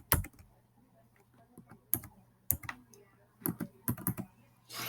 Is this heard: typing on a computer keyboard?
yes